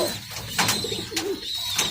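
Pigeons coo in a loft holding about a hundred and fifty birds. Soft, close calls repeat a few times in under two seconds against a quiet background.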